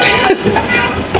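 Metro train running in the background of a first-time metro rail ride, a steady rumbling rail noise with a few brighter bursts, heard continuously under excited voices nearby.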